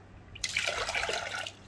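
Water is poured into a cooking pot, making a short burst of splashing and filling that starts abruptly and runs about a second before stopping, close and moderately loud.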